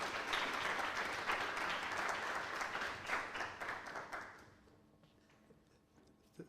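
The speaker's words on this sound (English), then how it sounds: "May you please give him a round of applause as he comes to stage." Audience applause at the Wits University student entrepreneurship programme launch, a dense burst of clapping for about four seconds that then thins out and fades to a quiet room.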